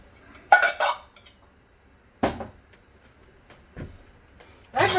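A hand-cranked grinder being worked in bursts, with three or four loud grinding and clanking spells separated by quieter pauses, close by with no talking.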